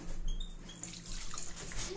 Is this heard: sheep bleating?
no